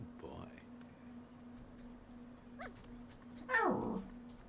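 A dog in The Thaumaturge whimpering softly, a few faint whines followed by one louder, longer whine near the end over a quiet background hum, with a voice speaking briefly.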